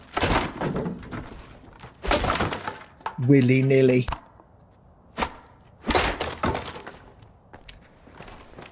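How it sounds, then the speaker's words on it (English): Wooden crates being smashed in S.T.A.L.K.E.R. 2: Heart of Chornobyl, several sharp loud cracking breaks spaced across the clip, with a voice speaking briefly in between. "smashing crates"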